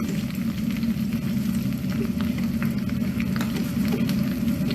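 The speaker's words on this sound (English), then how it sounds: "just add your greens in there. It will sizzle a little bit, but it's okay." Greens sizzle in hot oil in a pan, a steady close crackling hiss with small pops throughout and no talk.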